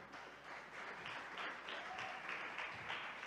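Church congregation applauding during a JMCIM preaching service, a moderate, fairly distant patter of clapping that pulses unevenly and continues throughout.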